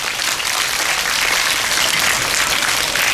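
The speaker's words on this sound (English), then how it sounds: "Please give a round of applause." A school audience applauds at a World Health Day assembly, a dense, steady wash of many hands clapping at full volume for the whole stretch, with no talk over it.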